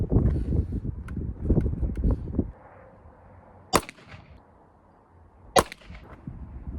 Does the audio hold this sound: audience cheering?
no